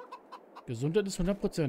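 Chickens in the farming game Farming Simulator 22 give a few soft, short clucks at first, then a voice talks over them for the rest.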